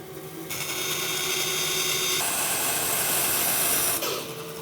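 Workpiece fed through a machine cut against the fence while cutting an angled dovetail joint, a steady broadband cutting roar lasting about three and a half seconds, loud and close with no talk.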